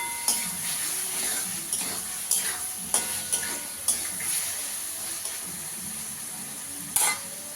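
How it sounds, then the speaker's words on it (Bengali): Fried potatoes stirred into masala in oil for mochar kofta, a steady bright sizzle with a series of distinct spatula scrapes and knocks against the pan, close and clear. "আলুটা দিয়ে ভালো করে একটু কষিয়ে নেব।"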